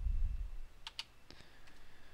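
A few sharp clicks of keys pressed on a computer keyboard, quiet and close, after a low thump at the start, with no talking.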